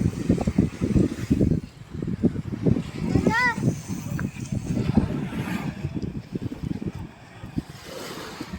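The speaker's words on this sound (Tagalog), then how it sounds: "yung alon ng dagat. Yung maririnig mo tapos yung hangin." Sea waves wash in over steady gusty wind rumble at Agoo Eco-Tour Park in La Union, with a person talking over the roar.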